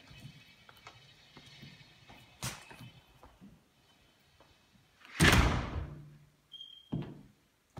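A house's front door opens, with a broad bang of the door and latch around the middle, followed by a brief squeak and a lighter knock as it settles, fairly close in a quiet room.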